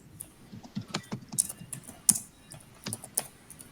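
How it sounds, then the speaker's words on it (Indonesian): Fingers tap a computer keyboard in quick, irregular bursts of sharp clicks, close and fairly quiet, with short pauses between the keystrokes and no voices. "sedang mengetik."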